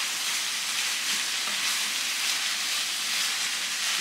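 Rice frying in a hot pan while being stirred, a steady loud crackling sizzle with a constant hiss, heard close and uninterrupted throughout.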